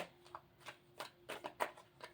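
A deck of cards shuffled for a card reading, giving a quick run of soft, rhythmic riffling flutters, close and fairly quiet, with no talk over them.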